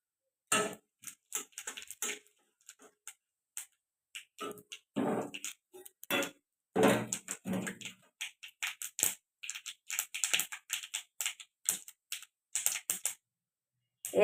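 Panch phoron (five-spice seeds) crackling in hot mustard oil that already holds sugar and chilli, giving sharp, scattered pops and ticks in irregular bursts with brief quiet gaps, close and fairly faint.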